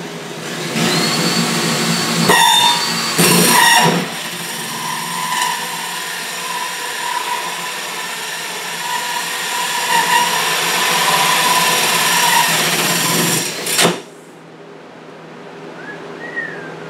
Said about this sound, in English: This is one of those drill bits you cannot use a drill block for.